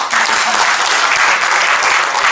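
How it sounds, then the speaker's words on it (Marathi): An audience at a book inauguration event breaks into loud, dense clapping that fills the room evenly for a couple of seconds. "एकदा जोरदार टाळ्या होऊन जाऊ दे"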